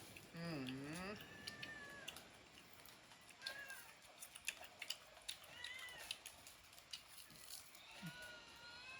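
A cat meows repeatedly near an outdoor spot where fish is being chopped in a rural village, the first cry long and rising, followed by several shorter mews amid clattering and background chatter from people nearby.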